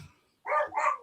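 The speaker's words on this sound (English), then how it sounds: "Somebody's dogs are going nuts." Dogs barking in the distance, two quick yips after a faint early sound, short and fairly clear against a quiet background.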